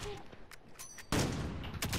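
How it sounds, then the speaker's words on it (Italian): Gunfire in Call of Duty: Modern Warfare: a few short shots, then a loud, sustained burst of fire. The gaming audio is otherwise fairly quiet, with faint voices in the background. "Gli sparo?"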